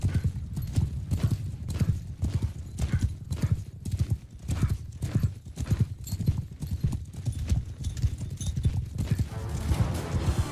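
Cavalry horses gallop in Bannerlord, a fast, loud, rhythmic drumming of many hooves pounding on without pause, with shouting voices mixed in.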